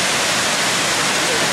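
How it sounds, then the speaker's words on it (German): Kuang Si waterfall in Laos: a steady, dense roar of falling water fills the whole moment as an unbroken broadband rush, loud and close with no distinct splashes standing out. "Also können wir uns jetzt diesen Wasserfall hier angucken. Wow, ein Wasserfall, Leute."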